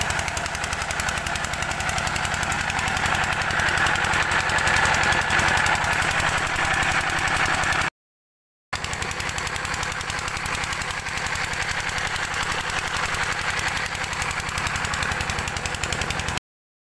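A tractor engine runs while wheat is being sown in a field, a loud, steady knocking diesel throb that continues nearly unbroken, with one brief cut, and no voices.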